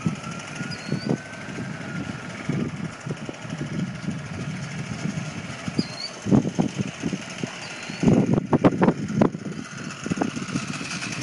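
A motorcycle engine runs steadily at idle and low revs, with throttle blips and louder bursts toward the end, fairly close and alone with no talk.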